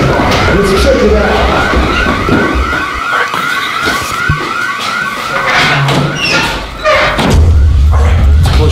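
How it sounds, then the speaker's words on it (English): A wailing alarm siren cycles up and down repeatedly, loud and close, mixed with thuds, slams and clattering game noise. "The sirens are going."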